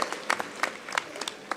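Audience applause at a state-level award distribution ceremony in Bhopal, a scattered run of hand claps from a crowd, moderately loud and uneven, with a faint voice in the background.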